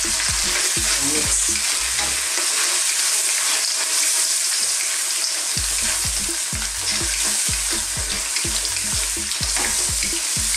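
Squid and clams fry in a pan for a Thai coconut seafood dish, with a loud continuous sizzle and rhythmic spatula scrapes and knocks as they are stirred, pausing briefly partway through.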